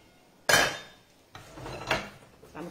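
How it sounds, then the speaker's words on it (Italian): A cooking pot and its lid are handled in a home kitchen, giving one sharp metallic clank followed by softer knocks and scraping. The sounds are close, with no talk. "Abbiamo qua una bella pentola, eccola qui,"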